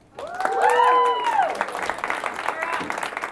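A crowd at a Women in Subscriptions event in Utah breaks into applause, led by a loud rising whoop of cheering, then settles into a thinner patter of clapping with a few voices mixed in.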